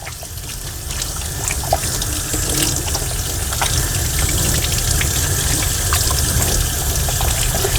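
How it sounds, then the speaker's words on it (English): A tap runs into a sink while hands are rinsed of soap, a loud, steady splashing stream close by, with small irregular splashes and trickles as the hands move under the water. "And now I'm going to rinse my hands off."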